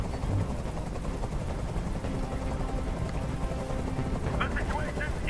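A helicopter in the video game Detroit: Become Human drones loudly and continuously, a thick rotor rumble filling the scene while voices talk over it and a few sharp clatters come through near the end.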